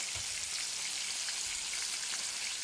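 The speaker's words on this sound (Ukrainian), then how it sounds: "Тут досмажується у мене рибка." Fish sizzles in a frying pan in a home kitchen, a steady dense crackle of hot oil with soft pops, continuous and close throughout.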